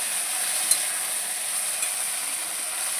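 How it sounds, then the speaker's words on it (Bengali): Taro pieces go into a hot pan and are stirred, giving a steady, fairly quiet hiss of frying throughout with a couple of faint scraping clicks from the spatula. "কচুগুলা দিয়ে একটু নাড়াচাড়া করে"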